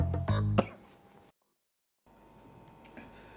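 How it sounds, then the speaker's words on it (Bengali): A sudden short burst of coughing, loud and close, opens a dramatized scene and then gives way to a brief silence and quiet room noise. "আরে হঠাৎ কাশি আসছে কেন? পানি খাও।"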